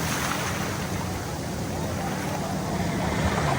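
Large sea waves surging at Kashid Beach near Alibag, a continuous heavy rumbling wash with a slight swell toward the end, close and loud under wind, without clear speech.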